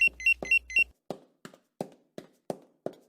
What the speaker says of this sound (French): Au son de l'alarme, les amants s'enfuient jusque dans leur placard.